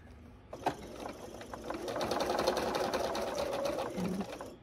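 A home sewing machine stitches quilt pieces, a fast, even rattling hum that starts abruptly and runs steadily close by, with no talk.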